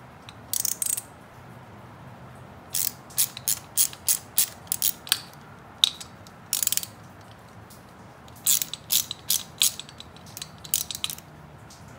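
Ratchet wrench clicks in quick rapid bursts while removing engine bolts on a Honda 400EX ATV, clear and close, with brief pauses between the runs of clicking.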